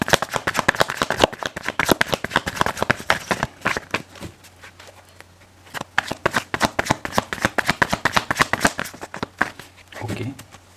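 Tarot cards being shuffled and drawn by hand, rapid bursts of crisp riffling flutters with brief pauses, close and loud, a low hum underneath and a short murmur of voice near the end.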